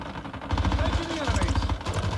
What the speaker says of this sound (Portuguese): estou a ouvir tiros, estou a ouvir passos.